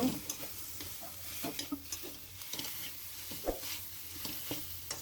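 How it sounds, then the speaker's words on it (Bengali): Potato pieces fry in a pan with oil, a soft, fairly quiet sizzle broken by repeated stirring clatters and taps at an uneven rhythm, heard close with no talking. "আলুটা আগে একটু ভেজে নেব।"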